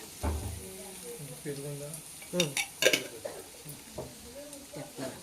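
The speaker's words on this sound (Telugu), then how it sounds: "వేసి ఒకసారి కలుపుతున్నాం." A spoon stirs spiced masala in a pot for chicken dum biryani, giving a few scraping, clattering strokes with faint sizzling underneath, while a voice talks throughout.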